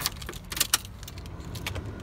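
Car keys for a 2011 Land Cruiser Troopcarrier GXL jangle in a few quick metallic bursts, close and clear, with quiet background between the shakes.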